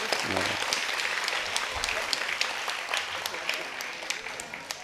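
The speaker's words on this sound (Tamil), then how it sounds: "தலைவர் அவருக்கு உற்சாகமாக ஒரு கைத்தட்டுவோம் நம்ம எல்லாரும் சேர்ந்து" A crowd at a Christian Christmas celebration gathering claps enthusiastically for their leader, a thick, steady burst of many hands applauding with some voices mixed in underneath.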